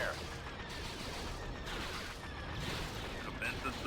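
Units opening fire in the Star Wars strategy game Thrawn's Revenge, a steady dense rumble of battle gunfire throughout, with voices of units under the din.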